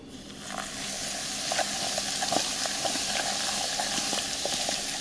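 Hot oil poured over a Mexican-style spice blend for chili oil and stirred with a wooden spoon, giving a loud, steady, close sizzling hiss with small scattered crackles and spoon scrapes.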